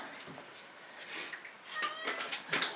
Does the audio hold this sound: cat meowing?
yes